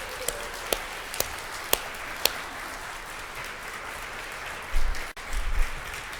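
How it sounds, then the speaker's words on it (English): A few sharp isolated claps sound at a university dean's closing remarks, then a short burst of audience applause toward the end, fairly close in a quiet hall. "a final round of applause for everyone who's been part of the community over the past 2 days"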